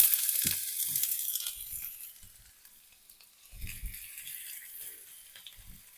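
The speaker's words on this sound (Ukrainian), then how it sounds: "Сирок натертий, йдемо смажити цибульку. Пательня розігрілась." Quiet sizzling of onion frying in a hot pan, with soft crackles and a few scattered clicks and scrapes, no voices.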